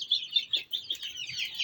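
A hen clucking in quick, irregular bursts, close and fairly loud, with short pauses between clucks and no voices.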